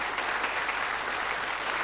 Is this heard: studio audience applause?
yes